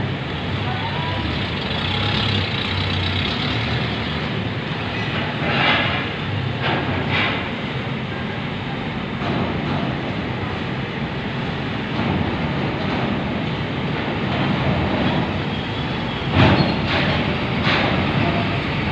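A Mitsubishi L300 carrying motorcycles and heavy trucks drive aboard the ferry Kirana IX during loading, giving a constant loud engine drone with occasional metallic clanks and knocks near the end.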